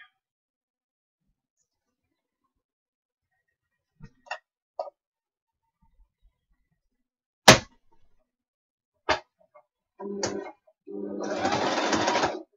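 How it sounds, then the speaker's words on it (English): A sewing machine stitching across fabric to form a pouch, mostly quiet with scattered clicks and knocks before a short burst of stitching and then a longer steady whirring run at the end. "essentially just sewing across there so it makes like a pouch"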